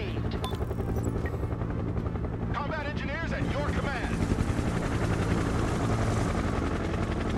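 Military helicopters in the Broken Arrow video game beat steadily and loudly throughout, mixed with battle noise and brief chirping radio or voice sounds.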